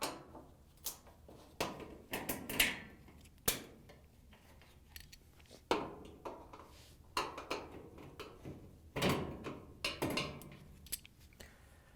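A Maytag dryer door being lifted up and pulled out of its frame during a repair gives a series of close, sharp metallic clicks, knocks and clatters at uneven intervals, with no talking.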